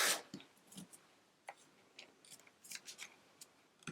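Rotary or fabric cutter slicing along a ruler through quilt fabric pinned with flat pins, giving sparse, quiet crisp clicks and short scrapes spread irregularly over a few seconds, with no talking.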